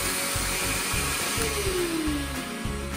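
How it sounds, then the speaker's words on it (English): A Bissell Little Green ProHeat portable spot cleaner runs with a steady, loud motor whine and a constant rushing hum, alone with no talk. "And there you have it, the machine starts running."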